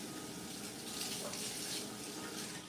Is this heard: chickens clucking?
no